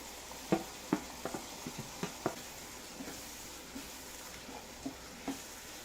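Tomatoes and green chillies in a frying pan, with a faint oily sizzle running underneath and soft, irregular taps and stirring clicks scattered across several seconds, quiet and close.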